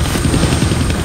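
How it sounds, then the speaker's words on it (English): A helicopter in the Deadpool video game gives a loud, steady, low rotor rumble that fills the whole short moment without a break. "I can't kill that chopper with my guns, but I can scare him."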